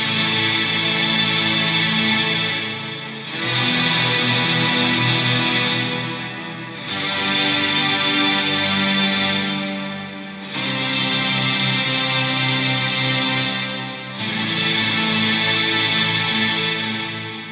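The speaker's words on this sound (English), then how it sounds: "let's hear the orchestra sound by itself. Sounds like this with a bit of reverb." An EHX Mel9 pedal's Mellotron orchestra voice played on guitar with reverb swells through five long, lush sustained chords, each fading briefly before the next, loud and alone with no talk.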